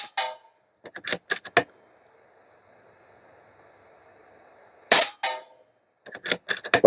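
Near the middle, a .30 caliber Airmaks Arms Krait PRO L airgun firing slugs gives one sharp crack with a short ring afterward. Talk comes before and after the shot.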